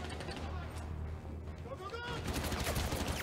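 Intar rifle fire in the Crossfire X campaign, a dense rattle of rapid automatic shots with bursts and pauses, loud and close, mixed with game effects and a voice talking over it.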